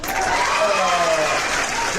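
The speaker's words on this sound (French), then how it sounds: "on va applaudir pour Olivia Yassi" Applause for Olivia Yacé, a steady wash of clapping with voices talking over it throughout.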